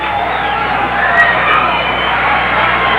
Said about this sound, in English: Crowd very pleased with that last turn of events.